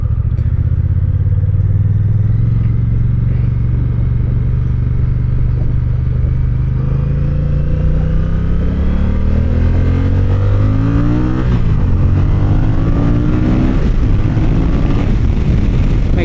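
A 2026 Honda Rebel 1100 motorcycle accelerates hard onto a highway, its engine note climbing steadily in pitch under loud, continuous wind rush, with no talking.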